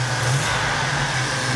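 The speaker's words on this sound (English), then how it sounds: "What you're hearing, that little vibration, there's a plate under here that's touching the intercooler." A 1987 Buick Grand National idles close by with a plate touching its intercooler, producing a steady low engine hum with a faint buzzing vibration throughout the brief moment.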